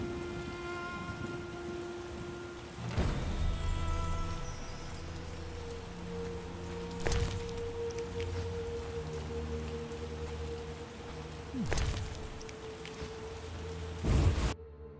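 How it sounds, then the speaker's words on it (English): A steady downpour in The Witcher video game hisses continuously, with several sharp thunder cracks and rumbles breaking through at intervals over a low background tone. "Wonderful downpour."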